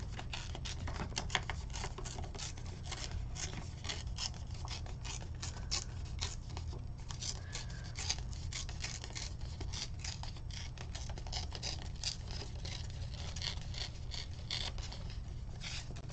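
Paper torn by hand for a Close To My Heart (CTMH) Cape Cod scrapbook double-page layout, a quiet, continuous dry crackling and ripping texture that runs steadily for the whole stretch with no talking.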